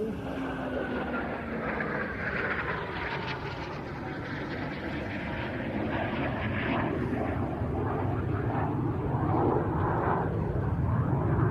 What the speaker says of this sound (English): You see the afterburners coming back on.